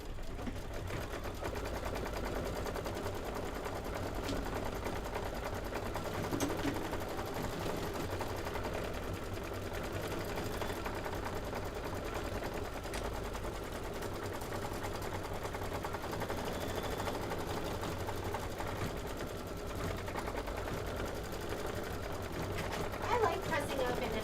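A sewing machine stitches quilt blocks with a continuous close mechanical whir and rapid needle chatter, steady for the whole stretch, while a person talks faintly over it.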